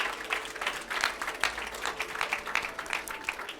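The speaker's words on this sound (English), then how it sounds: "Give him a big round of applause." Moderately quiet audience applause at an awards finale and evening reception, a steady patter of many hands clapping with uneven bursts, heard at some distance without speech over it.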